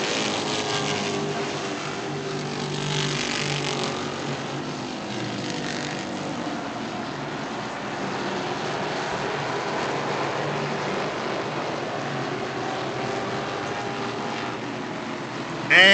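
Limited stock race cars battling for the lead at a motor speedway, a steady roar of several engines heard from a distance, continuous and fairly even throughout.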